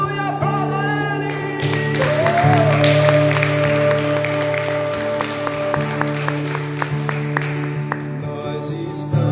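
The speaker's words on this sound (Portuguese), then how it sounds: "Aleluia, aplauda Ele." A church congregation claps at a Wednesday service, with a sustained organ or keyboard chord and a singing voice underneath, the applause swelling, then thinning into scattered claps.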